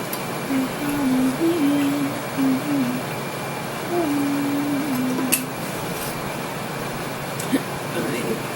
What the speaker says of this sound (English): if you can hear the air conditioning in the background